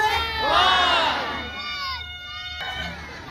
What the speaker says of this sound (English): all you've got to do is shout the numbers as loud as you can